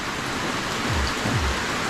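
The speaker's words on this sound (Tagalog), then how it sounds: "magandang ulan to. Ganitong ulan lang. Pabugso lang ba." Light, gusty rain falls on a farm as a dense, even hiss of drops, steady and fairly loud throughout with no voices.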